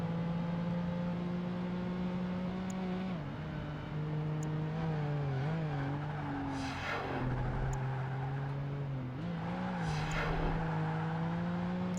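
A car in the Project Gotham Racing 2 video game drives with a steady engine drone that rises and dips with gear changes and throttle. Brief whooshes of passing scenery cut through, and the engine stays loud throughout with no talk.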